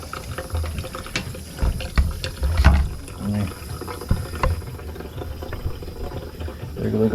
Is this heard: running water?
yes